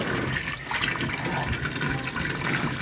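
Water runs and gushes inside a washing machine during a leak test after a repair for water that kept flowing, a loud continuous splashing rush with no talk.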